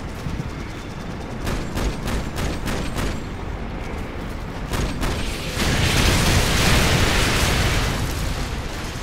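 Loud, dense gunfire and explosions from the video game Modern Warfare 2, with rapid bursts of shots in the first half giving way to a heavier, sustained roar of blasts and rumbling toward the end.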